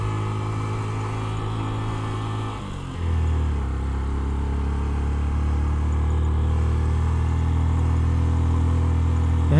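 Motorbikes carrying riders climb a winding uphill road. Engines drone loud and close, then drop in pitch as a gear changes and settle into a steady labouring rumble.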